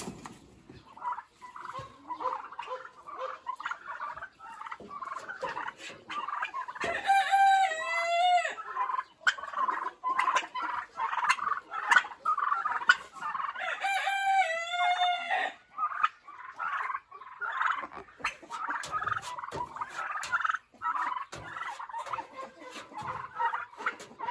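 Turkeys run about in a spacious pen, keeping up continuous busy clucking and chatter. Two distinct rippling gobbles break through at separate moments, close and clear.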